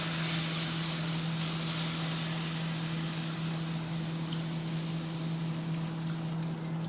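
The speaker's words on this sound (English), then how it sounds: "It's going to sizzle a little when I put it in." A steady, continuous sizzle of a butter and flour roux being whisked in a pan, with a constant low hum underneath, holding at the same level throughout.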